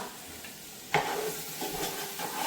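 A tomato curry fries in oil while being stirred, giving a steady sizzle with a sharp scrape of the spoon near the start and further stirring strokes after.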